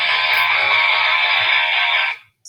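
A phone rings or buzzes with a steady, bright electronic tone that holds for about two seconds before cutting off, close by and fairly loud.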